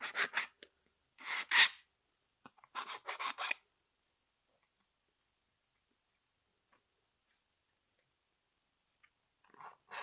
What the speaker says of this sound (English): Use your file on a little bit of an angle to get rid of it.